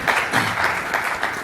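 Audience applause at an industry conference session, a short burst of steady clapping from a seated crowd filling the space at moderate level, with no talk over it.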